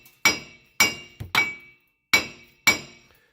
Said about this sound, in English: Try and try and smack at it from this side so you can get that to split up.